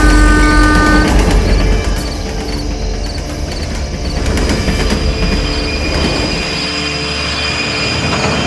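A cartoon train rolls past near a station, a loud, steady rumble of rail cars and wheels throughout, with squealing tones and brief horn-like notes early on, and no talking.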